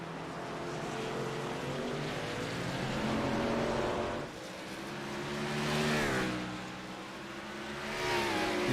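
Race cars in a SERL Chase event at the Roval sweep past a lapped car, engines roaring loud and close with rising and falling pitch as the pack closes in and passes in quick succession.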